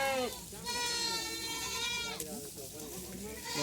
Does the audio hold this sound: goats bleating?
yes